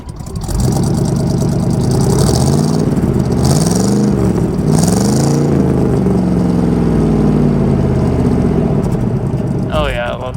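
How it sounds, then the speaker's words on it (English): Small block Chevy truck engine firing up and revving with a loud, deep burble, pitch sweeping up and down through several throttle pulls before settling to a rough idle. "This doggone truck sounds so good for being just a basic small block Chevy."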